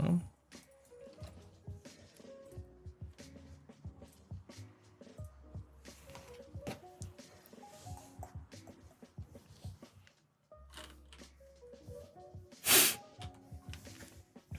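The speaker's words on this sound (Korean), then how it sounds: "오늘은 대량의 코 훌쩍이는 소리가 포함될 예정입니다." Repeated short nasal sniffles cut through soft clicking and handling noises during crafting work, close to the listener, with a sharp hissy burst near the end.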